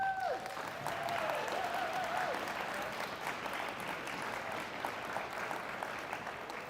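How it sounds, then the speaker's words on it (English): Steady applause from an audience at the opening ceremony of a senior curling championship welcoming the teams, filling the hall continuously throughout with no talk over it. "let's give a warm round of applause to welcome our 10 women and 8 men's"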